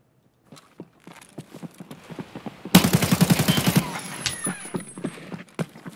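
Burst of rapid automatic gunfire in the video game Escape From Tarkov, a loud, dense volley lasting about a second amid scattered single shots and clicks before and after.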